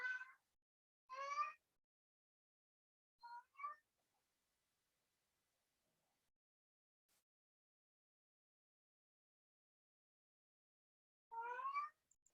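A cat meows indoors in a quiet room, two calls near the start, a short double mew a few seconds later, then one more meow near the end, each clear and close with long silences between.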